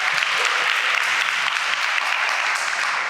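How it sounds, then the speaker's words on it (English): A crowd applauds steadily for about three seconds, a dense and even wash of clapping with no pauses and no voices standing out. "So, round of applause."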